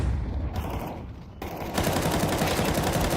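Rapid M4 rifle fire in a Counter-Strike match on Dust 2, a dense burst of automatic shots that thickens and grows louder toward the end, close and steady with no talking.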